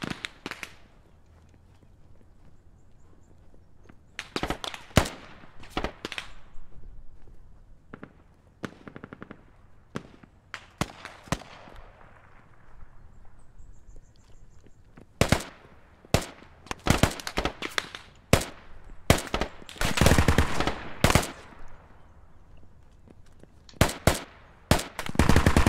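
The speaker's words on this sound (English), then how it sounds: "Enemy RPG-7 fire." Enemy RPG-7 fire in the Squad Leader war game: sharp, loud bursts of gunfire and blasts come in scattered clusters with quiet gaps between, growing denser and more rapid toward the end.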